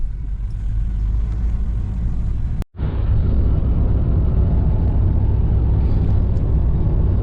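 A car cruises on a French highway, a loud, steady road and engine rumble with wind noise filling the whole stretch, broken only by a brief dropout partway through, with no talking.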